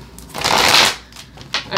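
A deck of tarot cards being shuffled up close, a brief riffling swell that rises and fades, followed by a couple of quick card flicks.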